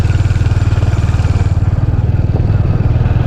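A motorcycle engine on a quiet mountain road through forest chugs in a close, loud, steady rhythmic pulse, with no other sounds around it.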